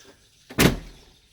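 Smittybilt Pivot tire carrier swung shut on a Jeep JL gives a single solid slam with a short ringing decay, close and loud against a quiet background.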